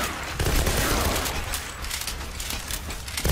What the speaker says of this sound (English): Man, the rifle shreds these guys apart